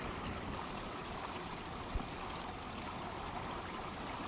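Water pouring steadily over a redone garden waterfall, a constant broadband rush and trickle heard up close with no pauses, with a single faint knock partway through.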